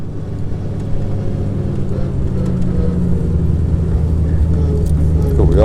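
A 1931 Duesenberg Model J with a twin cam straight-eight engine runs at low speed on a track, giving a steady, loud, deep rumble that builds slightly toward the end.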